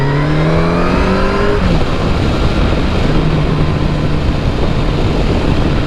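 A Yamaha FJR1300 sport-touring motorcycle engine cruising in third gear, a steady, loud, close drone with smoothly shifting pitch and strong wind rush throughout.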